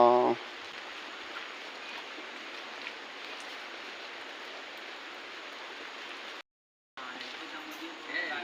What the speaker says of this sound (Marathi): पावसाची पण हजेरी असा पाऊस पडता असा